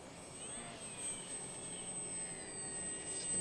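An FMS 1220mm Ranger RC plane's electric motor in flight at low to moderate throttle on a breezy day, a steady, thin, high-pitched whine that holds at an even level throughout.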